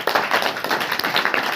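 A church congregation claps their hands together in a dense, continuous burst of many overlapping claps, loud and close throughout.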